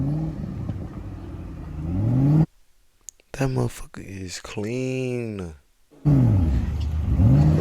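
A car revs hard and accelerates away while pulling out at a Cars and Coffee car meet, loud engine roar in bursts with an excited crowd shouting and talking over it.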